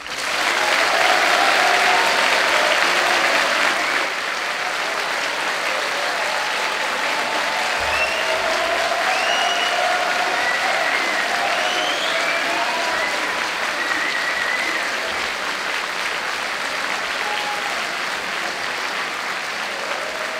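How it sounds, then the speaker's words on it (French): A large audience at a CentraleSupélec symposium evening claps loudly for guest Jamy Gourmaud. The applause is a sustained, even roar of many hands lasting about twenty seconds, with faint whoops and voices rising through it. "je vous demande d'applaudir très fort notre invité de ce soir"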